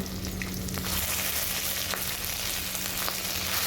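Ginger paste sizzles in hot oil with bay leaf, dried and fresh green chillies for a rainy-day khichuri, a loud continuous frying hiss close up with a few faint stirring clicks.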